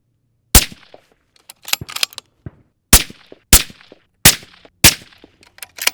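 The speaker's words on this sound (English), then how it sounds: "I'm going to get behind this gun and just start putting down 4 or 5-shot groups." An Accuracy International rifle is sighted in at a range, firing a five-shot group. Loud, sharp reports come at irregular intervals of about a second, with metallic clicks and clanks of the bolt cycling between them.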